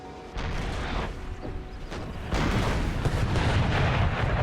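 Artillery fire in a Napoleon Total War battle: a continuous roar of dull booms and rumbling battle noise that grows louder partway through.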